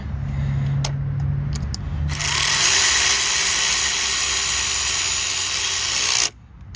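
Close by, a power tool buzzes steadily for several seconds as it drives a screw into the auxiliary water pump of a Volkswagen GTI, preceded by a few short clicks and bursts, then stops abruptly.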